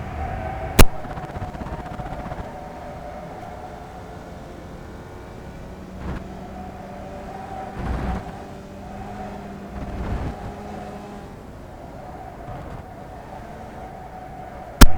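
Race car on a time trial lap at the Rudskogen circuit, a steady engine drone with shifting harmonic tones and a few sharp thumps, wind rushing over the microphone throughout.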